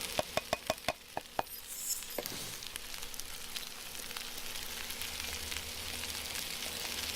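Spinach wilts and fries in a pan with a steady close sizzle, preceded by a quick run of sharp knocks of the utensil against the pan as it is stirred around.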